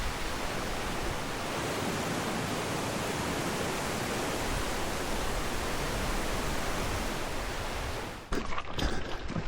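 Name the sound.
river rapids rushing along quarry trail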